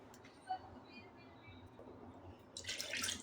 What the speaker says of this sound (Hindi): और 1 कटोरी ये भर के पानी डाला